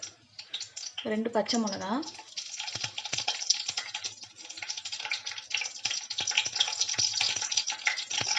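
Whole spices and green chillies frying in hot oil for a potato kuruma, a steady crackling sizzle with scattered pops running throughout, and someone speaks briefly near the start.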